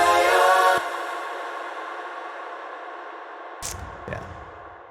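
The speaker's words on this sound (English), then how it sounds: "That's the sound of the reverb that I've got." A wide concert hall reverb from a Valhalla plugin at full mix, with a brief sung vocal phrase washing out into a long, fading tail that lingers for seconds, with small echoing blips near the end.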